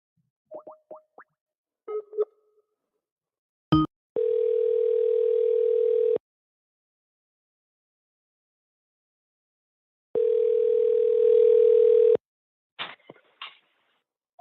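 A telephone line tone sounds twice on a call-in show while connecting to a caller, each a steady two-second electronic hum, with short clicks and plops before, between and after.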